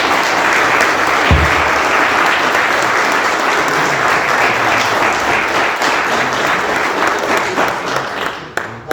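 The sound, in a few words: applause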